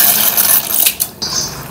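Dry macaroni, 250 grams, poured into a pot of boiling water with a spoonful of oil, making a brief clattering rattle and splash up close with bubbling hiss around it.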